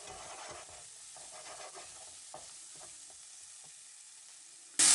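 Garlic and parsley persillade frying in a pan for shrimp in spicy sauce gives a soft, quiet sizzle with light stirring scrapes, ending in a sudden loud burst.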